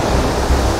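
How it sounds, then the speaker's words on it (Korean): Strong sea waves crash in a loud, continuous roar of surf and spray, filling the whole short moment with dense noise. "아니 파도가 진짜 센데. 아니 이런 파도를 본 적이 없어."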